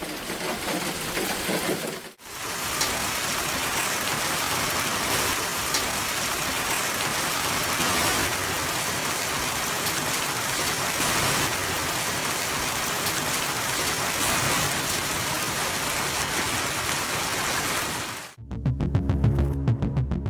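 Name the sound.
heavy rain from a violent thunderstorm in eastern Slovakia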